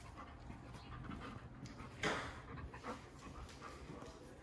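Dogs pant quietly and rapidly indoors, a faint continuous huffing rhythm with one brief louder breath or whimper in the middle.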